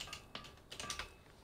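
Quick, light keystrokes on a computer keyboard come in a few uneven bursts, close and fairly quiet, while the player is building in the game Conan Exiles.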